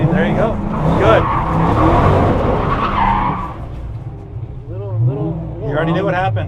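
A GT500-swapped Ford F100 truck drifts with loud, wavering tire squeal and engine roar, close by, while people talk over it.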